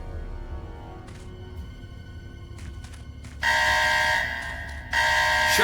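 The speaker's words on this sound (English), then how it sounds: "Shut the alarm off, Doyle!" Laser security alarm in the video game Secret Service, a harsh electronic buzzing tone that sounds in two loud bursts after several short blips over quiet background rumble.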